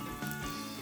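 Small balls of banana fritter batter drop into hot oil and fry with a steady, close hiss and crackle that carries on without a break.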